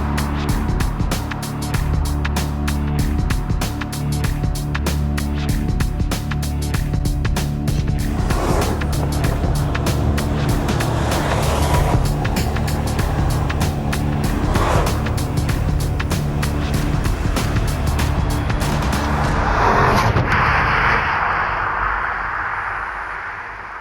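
A Porsche Panamera on the move, its engine and road noise forming a loud, steady, continuous roar that holds for most of the drive before easing off near the end.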